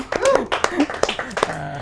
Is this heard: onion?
no